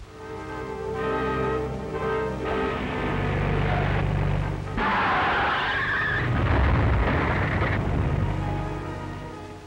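A car skids in a 1942 film, its tires squealing in long, loud, wavering tones with engine noise underneath, peaking in a harsh screech midway before fading.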